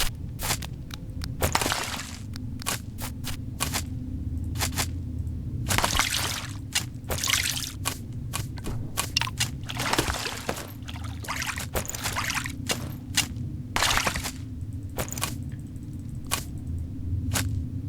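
Water drains away in the video game Craft The World: a steady pouring, trickling rush that runs continuously, punctuated by frequent sharp splashy bursts, with no talk.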